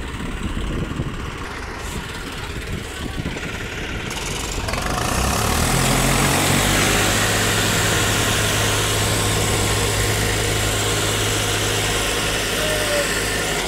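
A Swaraj 735 tractor engine revs up and holds a loud, steady low drone while pulling a heavily loaded trolley stuck in mud, after a few seconds of quieter rumble.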